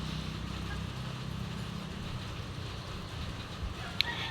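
Steady rain falls on a house roof at a building site where a balcony is being built, a soft continuous patter with low rumble, faint and close, with one brief sharp click near the end.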